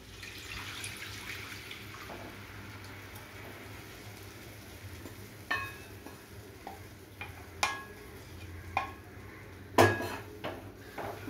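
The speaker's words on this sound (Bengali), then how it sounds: "অনবরত নাড়তে হবে, নালে দলা পাকিয়ে যাবে।" Semolina with cold milk is stirred in a pan, with a soft background hiss and a series of sharp scraping knocks of a utensil against the pan, growing more frequent toward the end.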